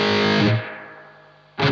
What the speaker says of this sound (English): Well, it's a reverb.